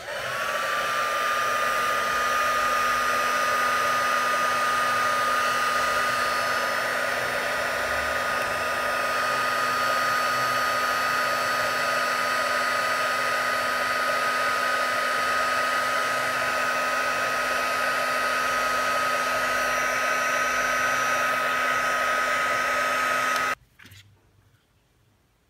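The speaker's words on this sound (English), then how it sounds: "I'll mute the heat gun voice for a little while." A heat gun runs steadily with a loud, even whine and airflow hiss while crackle finish is being dried, then cuts off abruptly near the end, leaving quiet.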